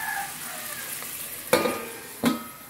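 Onions with a light sprinkle of salt fry over medium flame in a pan, giving a soft steady sizzle with two sharp clinks of a utensil against the pan partway through.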